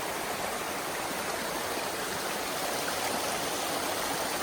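Creek in North Cascades National Park, a constant broadband rush of flowing water, close and even throughout, with no voices.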